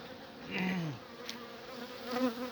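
Anatolian honeybees buzz close by at a hive during a winter check, their drone rising and falling as individual bees pass near.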